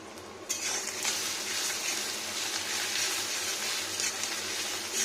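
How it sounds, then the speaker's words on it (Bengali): Steady, close sizzling of chopped ginger frying in hot oil in an iron wok, a continuous crackling hiss with faint stirring and no voices. "এটা ভাজা ভাজা হবে, আদাটা ভাজা হলে রসুন"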